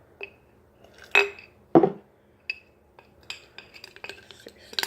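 Neem and rose powder paste stirred with water in a bowl, with a spoon clinking and scraping against the sides in irregular light taps and one heavier knock, close and alone.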